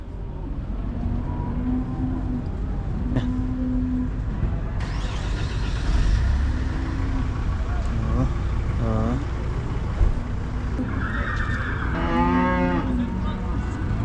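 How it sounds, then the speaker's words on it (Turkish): Cows at a Kyrgyz livestock market moo repeatedly, some calls near and loud, others farther off, over a busy outdoor murmur with people talking and occasional vehicle noise. "Arkada inekler var."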